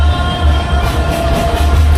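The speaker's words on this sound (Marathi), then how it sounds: "ट्रेन चालली, ट्रेन." A toy train ride runs at a village jatra fair in Sindhudurg, a loud, close, steady rumbling with a faint rhythmic pulse.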